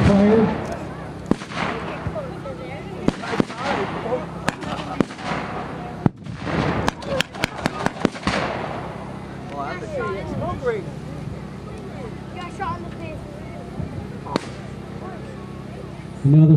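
Gunfire at a military reenactment battle on an open field, with scattered single loud shots and a rapid burst of cracks, some near and some distant, while someone talks over it at times.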